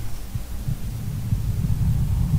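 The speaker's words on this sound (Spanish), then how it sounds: "Esos son latidos de corazón." A heartbeat sound effect throbs low and muffled, a continuous pulsing rumble with a steady hum underneath and no other sounds.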